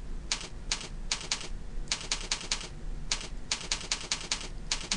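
HTML code being typed on a computer keyboard: bursts of quick, crisp key clicks in irregular clusters with short pauses between them, close and fairly quiet over a steady low hum.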